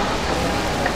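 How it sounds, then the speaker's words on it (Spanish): Torrential summer rain pouring down in Lima in February, a dense, constant roaring hiss of heavy downpour close around, with no voices heard over it. "ahora lloviendo torrencialmente en Lima"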